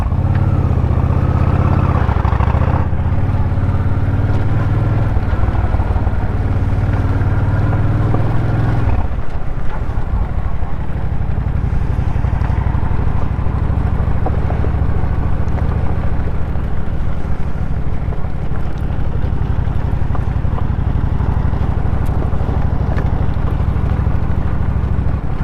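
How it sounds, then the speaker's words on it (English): A motorcycle rides through the woods with its engine droning loudly and steadily, wind buffeting the microphone, and the tone shifting partway through the ride with no talking. "I'm not sure if I can get to it by motorcycle, but today is a good day to try"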